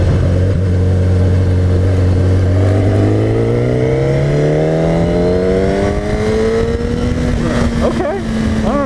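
A 2015 Kawasaki Ninja ZX-10R sportbike accelerates steadily on a side road, its engine note rising smoothly in pitch through the gear, loud and close with wind noise.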